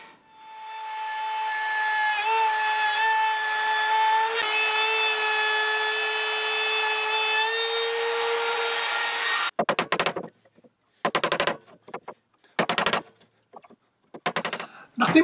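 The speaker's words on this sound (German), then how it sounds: "Nachdem ich jetzt den Rahmen gut geschliffen habe, und zwar mit mehreren verschiedenen Schleifpapierkörnungen." A wooden picture frame is sanded by hand with sandpaper. A long steady tonal hum comes first, followed by several short, close, rasping strokes separated by brief pauses.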